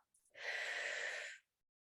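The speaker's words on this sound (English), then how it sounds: "Breathing out." A single soft, breathy exhale lasting about a second, close and quiet, with nothing else around it.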